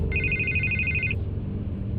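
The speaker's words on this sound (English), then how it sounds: "I can't get the phone to stop ringing." A phone rings in Batman: The Telltale Series, an electronic ringtone trilling steadily for about a second before cutting off, over a low, busy game background.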